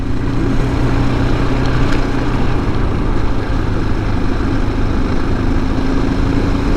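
A 2007 KTM 690SM motorcycle with dual exhaust runs steadily, giving a loud, close, even engine drone with a low rumble that holds without pause for several seconds.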